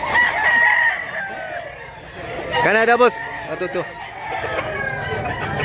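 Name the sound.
rooster crowing at a chicken market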